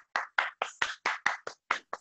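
Audience clapping at a team achievers award event, a series of about ten loud, evenly spaced hand claps in a steady rhythm, sounding like a few people applauding together rather than a large crowd.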